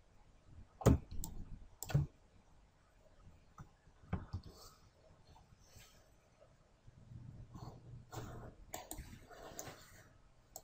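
Quiet computer mouse clicks while working in Autodesk Inventor surface modelling, a few sharp isolated clicks spaced several seconds apart over faint background noise.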